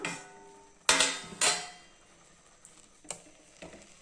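A metal lid comes off a pot of ragi cooking on the stove, making two sharp clanks close together followed by lighter ticking taps of metal, with quiet gaps between them.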